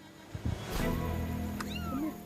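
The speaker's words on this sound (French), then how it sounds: "un petit chat semble avoir repéré le bateau" A kitten gives a drawn-out, wavering meow up close, with a couple of softer mews around it.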